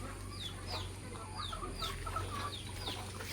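A farmyard flock of about fifty chickens clucks and calls softly in repeated short bursts over a steady low hum, nearby but faint, with no talk.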